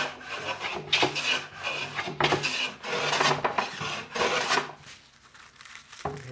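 A hand plane takes long rasping passes over a new wooden workbench top, giving a close rhythm of roughly six shaving strokes that ease off near the end before one last scrape.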